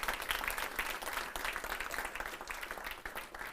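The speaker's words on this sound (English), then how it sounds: "Let's clap for Elijah as he walks in" Audience applause at a 2022 gubernatorial debate in Nakuru as a candidate walks in, steady dense clapping filling the room throughout without pause.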